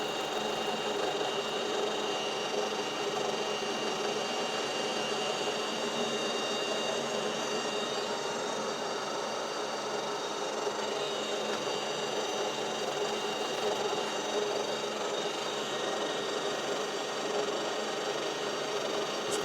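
Metal lathe facing the end of a slitting saw arbour, a steady, fairly quiet mechanical hum and whir with a faint high cutting tone, continuous and unchanging throughout, with no speech.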